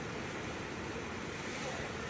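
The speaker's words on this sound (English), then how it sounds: "Oh, it's splashing." Sewage splashing and churning in an airport sewage pit that collects aircraft toilet waste, a steady dense wash of turbulent water noise filling the whole moment without pause.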